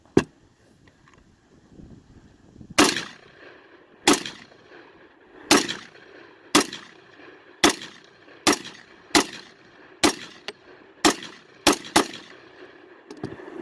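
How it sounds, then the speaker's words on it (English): About a dozen sharp rifle shots from a Chinese SKS fired at cans on an outdoor range, loud and close, spaced a second or so apart with the pace quickening near the end and quiet between. "I'm shooting at cans this size downrange"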